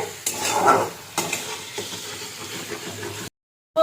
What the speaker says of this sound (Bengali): পেস্টটাকে দিয়ে ভালো করে এটা কষাতে হবে